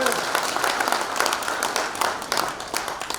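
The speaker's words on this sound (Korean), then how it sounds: "안병직 교수님 큰 박수로 맞아주십니다" An audience at an outdoor launch ceremony in Gwanghwamun Square claps to welcome a professor, with dense, steady applause throughout and a voice carrying over it.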